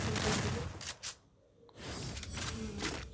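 Gunfire in a video game comes in dense, continuous bursts that fill the clip, with a brief lull in the middle before the shooting resumes just as loudly. No one talks.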